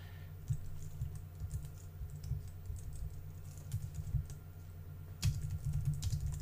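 Quiet, steady clicking of a computer keyboard being typed on, soft and close with irregular keystroke rhythm and a brief louder flurry near the end.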